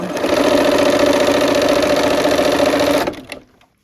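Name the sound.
sewing machine stitching quilt fabric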